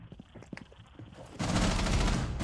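Gunfire in the video game Rainbow Six Siege: scattered soft thuds and steps first, then a loud, dense, sustained burst of shots that fills the last second.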